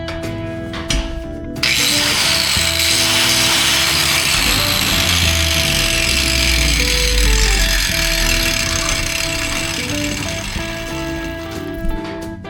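An angle grinder fitted with a new cord starts up in a workshop and runs continuously, a loud, close, high-pitched whine with a droning hum beneath, steady until it winds down near the end.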